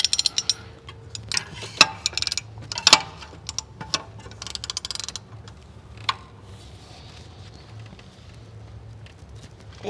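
A ratchet turning a bolt on the water pump of a 2002 Chevy Suburban with the 5.3L engine: clusters of quick, close metallic clicks in short bursts, with pauses between strokes and a low hum underneath.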